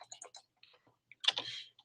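Quick bursts of keystrokes on a computer keyboard during an accounting lesson, a few scattered taps followed by a denser clattering run, close and moderately quiet, with no talking over it.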